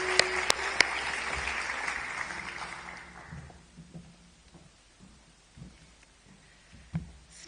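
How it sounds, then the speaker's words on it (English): At the Ockham New Zealand Book Awards ceremony, an audience applauds at moderate volume, steady clapping with a few sharper claps that gradually fades out after about three seconds into quiet hall ambience and faint shuffles. "Please, a round of applause."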